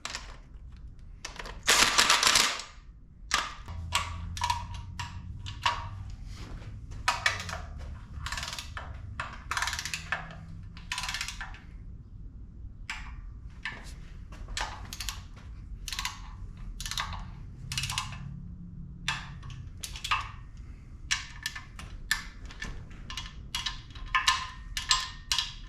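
Valve cover bolts on a Chevrolet Bel Air's 5.3 engine being tightened with a ratchet: long runs of rapid, close metallic clicking with brief pauses between bolts, plus a sharp louder clatter near the start and no talking.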